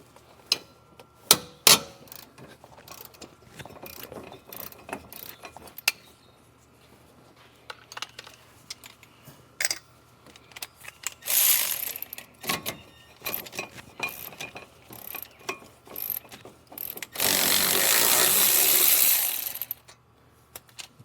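A ratchet clicks in quick bursts as caliper bracket bolts are loosened on a Ford Ranger, with sharp metallic clicks and clanks close by and a louder rapid ratcheting run near the end.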